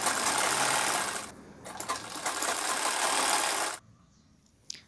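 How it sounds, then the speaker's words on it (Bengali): A sewing machine stitches fabric with a steady, close mechanical whirring that dips briefly, resumes, and then stops abruptly, followed by quiet handling noises and a small click. "তো এটা পুরোটা আমি সেলাই করে নিচ্ছি।"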